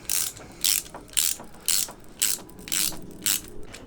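A fitting is tightened with a clicking ratchet while a Forneza Maestro 16 pizza oven is set up with a gas converter, giving about seven evenly spaced, crisp clicks close by and with no talking.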